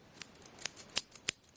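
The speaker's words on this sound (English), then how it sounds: "This is a simple set of scissors that you get, for your kids, for doing crafts." Dull children's craft scissors snip repeatedly, about six crisp cuts in an uneven rhythm, close and clear with no talking.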